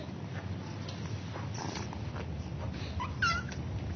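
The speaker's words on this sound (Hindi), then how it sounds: "बिल्ली के बच्चे क्यूट है ना?" A few soft, high meows from kittens come and go over low background rumble, with one clearer cry near the end.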